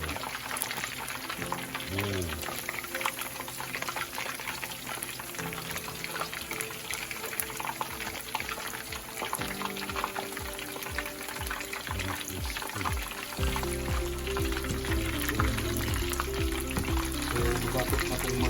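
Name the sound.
giant sea perch deep-frying in hot oil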